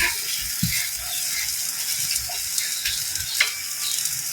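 Onions hit a frying pan where fish is cooking for paksiw of tamban and bangus, giving a steady close sizzle with a few light clicks and scrapes, no voices.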